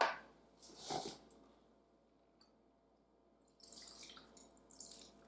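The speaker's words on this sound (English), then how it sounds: "I'm just going to put a little bit of water in the bottom." Water splashes into the ceramic bowl of a slow cooker holding onions and roast beef, a brief pour near the start followed by quiet, then more soft dripping and trickling toward the end.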